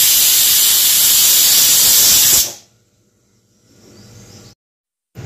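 A pressure cooker whistle releases a loud, sustained hiss of rushing steam, cutting off abruptly, followed by quiet with faint rumbling.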